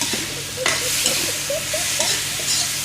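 Instant noodles stir-fried in a wok, giving a steady close sizzle with repeated scraping and stirring strokes of the utensil against the pan, with no voices.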